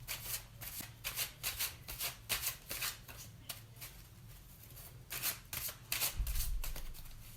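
A worn, heavily used tarot deck being shuffled by hand, a steady run of soft riffling and slapping card bursts, close and fairly quiet, with no talking.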